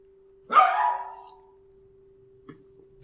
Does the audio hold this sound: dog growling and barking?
yes